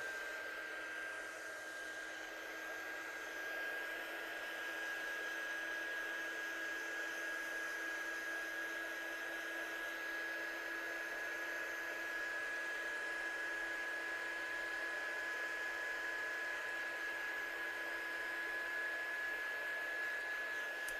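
A heat tool blows steadily while drying ink on a stamped card, a constant airy whoosh with a thin whine held evenly at close range for about twenty seconds, no voices over it.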